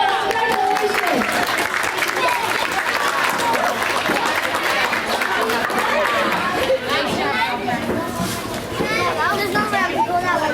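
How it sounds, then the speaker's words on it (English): Applause and cheering fill a school board meeting room, sustained clapping mixed with crowd chatter and children's voices throughout, loud and close. "let's give them all a big round of applause"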